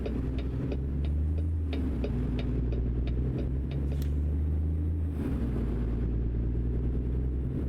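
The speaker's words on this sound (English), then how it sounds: "Does sound really good with that Cummins in it." Cummins diesel truck engine in American Truck Simulator, a steady low rumbling drone that holds on for the whole stretch, with faint ticking and clicking layered over it and a brief dip near the midpoint before it carries on.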